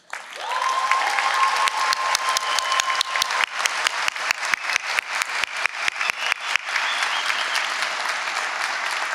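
A graduation ceremony crowd applauds in a large hall, dense clapping rising quickly and holding steady with a tone sounding briefly at the start, the applause slowly thinning toward the end.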